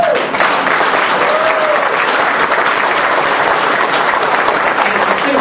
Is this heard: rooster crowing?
no